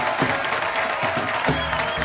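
Steady applause from a studio audience welcoming guests onto a comedy talk show stage, a dense even wash of clapping throughout, with a voice speaking over it.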